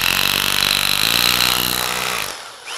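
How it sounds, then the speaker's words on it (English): A power drill fitted with a masonry bit grinds steadily through a wooden fake wall, a loud continuous buzzing whine that winds down at the end. "Drilling through wood with a masonry bit kind of bites."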